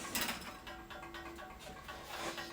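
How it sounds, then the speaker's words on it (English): A ratchet clicks quickly as a part is bolted onto a Toyota 3UZ V8 engine, close, quiet metallic ticking in short rhythmic runs. "So I'm just going to bolt this on."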